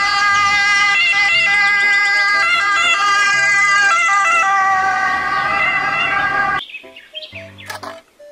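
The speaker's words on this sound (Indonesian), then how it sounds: "Mobil ambulans." Toy ambulance wailing its electronic siren, a loud, steady warbling tone that continues for several seconds, then cuts off and leaves brief chirping beeps.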